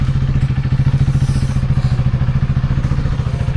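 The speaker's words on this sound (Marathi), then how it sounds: "आपली बाईक ड्यूक कोल्ड स्टार्ट करून ठेवले आहे" A KTM Duke motorcycle idles just after a cold start, its engine close and loud with a fast, steady thumping beat that holds an even rhythm from start to finish.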